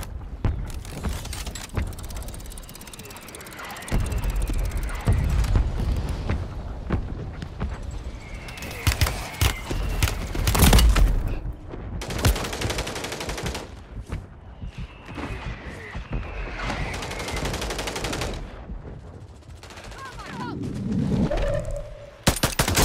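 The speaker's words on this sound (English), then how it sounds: "Friendly mortar strike on the way." Explosive mortar strikes and gunfire in the Call of Duty Warzone 3 video game on PS5, loud repeated bursts and booms separated by short lulls, with game effects throughout.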